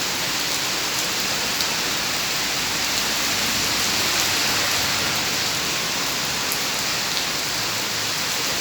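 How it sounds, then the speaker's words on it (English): Heavy rain pours in Singapore, a constant dense hiss of drops striking surfaces at close range, steady and loud from start to finish with scattered brighter splashes and no talking. "Today Singapore heavy rain."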